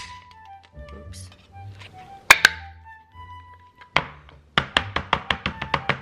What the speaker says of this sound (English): So now we're going to be cutting the Spam, like the original.